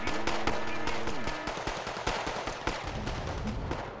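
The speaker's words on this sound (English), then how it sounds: "We'll go ahead and hit them with rockets too." Wargame: Red Dragon battle sounds with artillery and rocket fire, a loud, continuous barrage of overlapping booms and rapid gunfire bursts with dense rumbling throughout.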